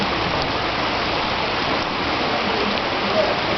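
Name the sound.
heavy rain during a thunderstorm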